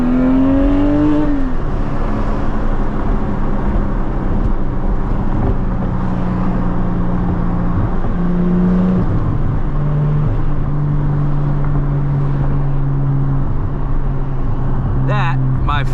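A 2022 Porsche Cayman GT4 with a manual gearbox and Valvetronic exhaust revs loudly up and down through several rising and falling engine sweeps. A voice is heard along with it.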